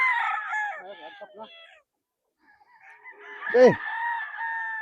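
Gamefowl roosters on a game farm crow loudly nearby, with one long crow opening and another rising sharply after a pause, while someone speaks briefly.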